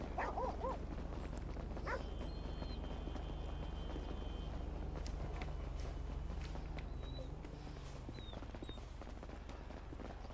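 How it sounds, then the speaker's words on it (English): A dog barks a few times in the GTA V video game, faint and partly buried under game ambience and hoofbeat-like clatter, with no clear talk. "Who's that annoying dog that walks in front of the legs?"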